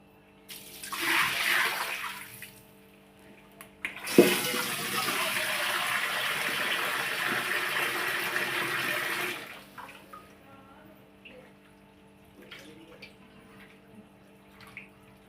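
Meat being rinsed under a running tap, a short splashing burst followed by a long steady gush of water that stops abruptly, leaving faint clinks in a quiet room.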